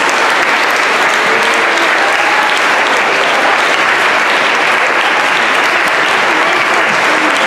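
An audience at a kindergarten-to-eighth-grade promotion ceremony gives dense, sustained applause for choristers from junior and chapel choirs, loud and close for the whole stretch.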